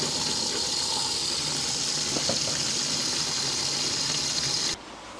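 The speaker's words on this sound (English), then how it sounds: "I'm going to put a little bit of water in from the hose." Water from a hose running into a caravan's water system, a steady loud hiss and gush that holds evenly, then drops off abruptly near the end.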